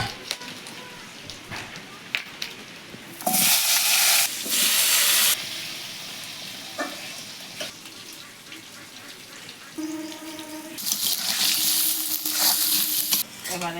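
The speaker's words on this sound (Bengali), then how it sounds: "শুকনো লঙ্কা, তেজপাতা, মৌরি, এলাচ, দারচিনি, লবঙ্গ এটা ফোড়ন দিয়ে আলু ভেজে নেব।" Potatoes frying in hot oil with dried chilli, bay leaf, fennel, cardamom, cinnamon and cloves in a Bengali village kitchen. Loud sizzling bursts come and go between quieter stirring and scraping.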